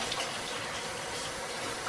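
Water runs steadily from a tap over potatoes set to soak for tacos, a constant hissing pour with no voices.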